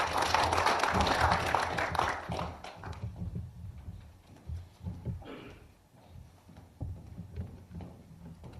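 Audience clapping at a public hearing on reviving small businesses in Yeoju, a dense burst of applause for the first three seconds that thins into scattered claps and room murmur.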